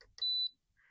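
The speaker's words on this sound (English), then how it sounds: "Now that long beep means that it should be working now, that it changed." A gun safe's electronic keypad gives a long, steady high-pitched confirmation beep lasting about a quarter second, clear and close, after a couple of short button tones.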